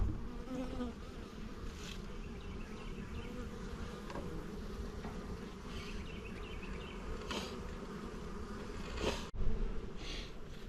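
A dense swarm of honeybees drones steadily around an open hive during a spring inspection, a continuous close buzz with occasional individual bees passing louder near the listener.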